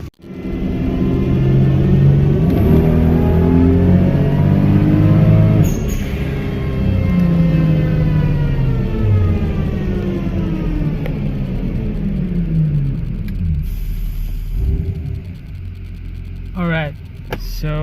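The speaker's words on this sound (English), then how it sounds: "we've never done a dyno pull on a bone stock Supra" A bone stock 1998 Toyota Supra engine runs loud on a dyno, its tone climbing steadily through a long continuous pull, then dropping back near the end.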